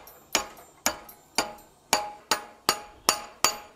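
Hammer blows ring out on hot steel while a spatula is forged, nine sharp, evenly spaced strikes with short metallic decays, close and loud, with no talking.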